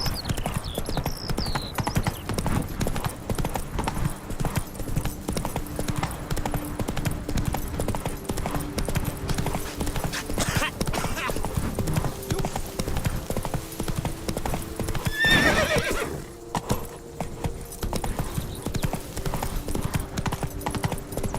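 Roach, a horse in the Witcher 3: Blood and Wine video game, gallops with rapid, continuous clip-clopping hoofbeats and a short louder burst past the midpoint, as though a faint whinny slips in.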